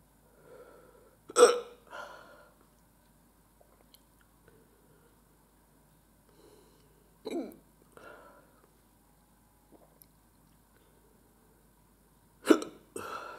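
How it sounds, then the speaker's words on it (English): After hot sauce is eaten, someone gives a few sharp, isolated hiccups spread through the stretch, with quiet mouth and chewing noises in the gaps between them. "Hiccups."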